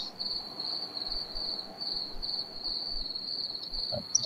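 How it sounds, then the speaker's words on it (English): Crickets chirp at night in a video game, a steady high-pitched trill that runs without a break under a faint ambient bed, with one soft thump near the end and no talk. "With the crickets."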